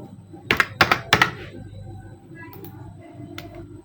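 Three sharp, close key clacks in quick succession, like pressing Enter on a computer keyboard while drafting a jumper pattern in Lectra software, followed by a quiet room hum.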